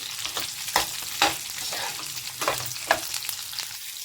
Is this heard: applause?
no